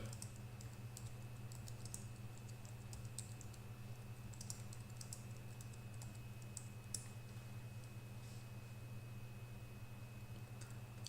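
Quiet, steady clicking of computer keyboard keys in irregular bursts over a low electrical hum.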